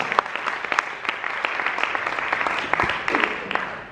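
An audience claps in sustained applause at the launch of the cruise ship Genting Dream, a dense patter of many hands at moderate volume.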